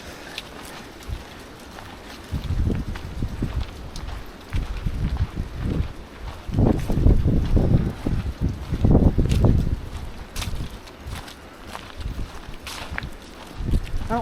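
Gusty wind blows through old trees in a state park, with buffeting microphone rumble that swells and fades in irregular surges, loudest in the middle stretch.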